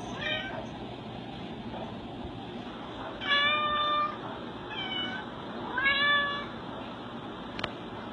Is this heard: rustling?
no